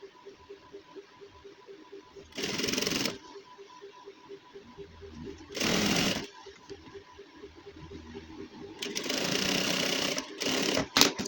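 A sewing machine stitching the folded edge of a gents suit runs in three loud bursts, each a few seconds long, separated by quieter stretches of low mechanical hum.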